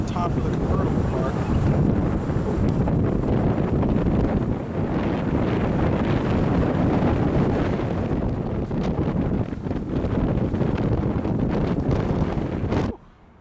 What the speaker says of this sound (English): I don't know if you guys are hearing that wind or not.